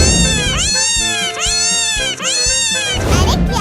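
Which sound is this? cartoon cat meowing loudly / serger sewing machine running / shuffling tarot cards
cartoon cat meowing loudly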